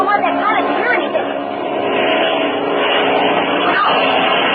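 A propeller airplane drones steadily overhead in an old-time radio drama, a loud continuous engine roar running under a bustle of chatter.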